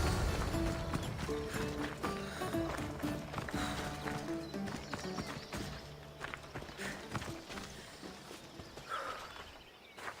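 A horse galloping in the video game Assassin's Creed Odyssey, rapid rhythmic hoofbeats close by over ambient game sound and faint musical tones, gradually easing in intensity.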